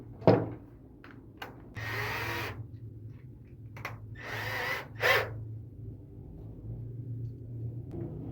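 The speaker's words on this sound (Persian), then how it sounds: "به این قسمت پیچ میکنیم" A power drill drives screws into wood while building a folding travel chair: two short whirring bursts separated by a pause, with light clicks and handling knocks around them over a low hum, close and alone.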